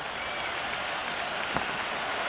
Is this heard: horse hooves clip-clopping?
no